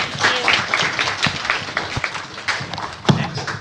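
Applause from a hackathon audience, a short burst of scattered clapping with a few sharper claps standing out, fairly close and moderately loud with no talk over it.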